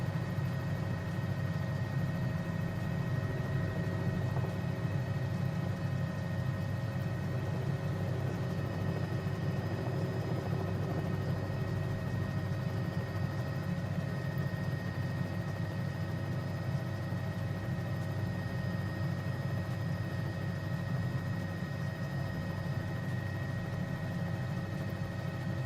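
Steady, droning turbine whine and rotor rumble of an S-76 helicopter in a flight sim, continuous and unchanging at a moderate level with no talk.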